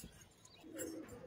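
Giribaz pigeons coo low and soft in a quiet loft, a single faint, brief call.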